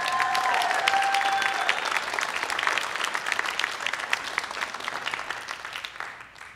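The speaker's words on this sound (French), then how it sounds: "On l'applaudit." A comedy-show audience gives a loud, sustained round of applause to welcome a young comedian, with a whistle cutting through the first seconds of the crowd's clapping before it slowly tapers off at the end.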